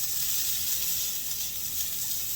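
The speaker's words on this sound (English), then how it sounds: "Now we're gonna add our onions." Chopped onion, about half a medium onion, hits a hot pan of garlic and sizzles with a steady, dense hiss that holds at an even level throughout.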